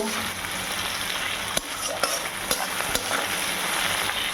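Ingredients for Bengali muri ghonto fry steadily in a pan, giving a continuous close sizzle with a few soft stirring clicks and scrapes throughout, and no talking.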